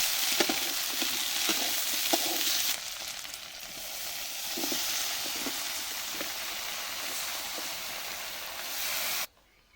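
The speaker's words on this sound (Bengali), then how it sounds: "এখন মাছগুলা দিয়ে ভালো করে অল্প ভাজা নিব।" Fish fry in a pan with a dense, continuous sizzle and hiss, a few clinks and stirring taps at the start, before the sound cuts off abruptly near the end.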